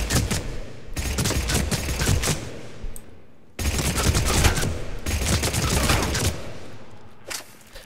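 Bursts of Blood Pack Punisher gunfire in Mass Effect 3's Firefight DLC come as two long full-auto strings of rapid, loud, close shots, each trailing off before a short pause and a last burst.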